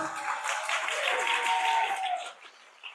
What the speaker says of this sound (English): All right, JJ, let's give him a round of applause.